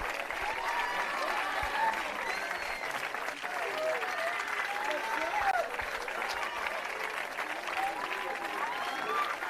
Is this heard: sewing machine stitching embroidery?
no